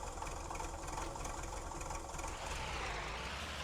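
An MTZ 1221 Belarus tractor in the Spintires game, its engine droning steadily under load with a low, continuous rumble and no voices over it.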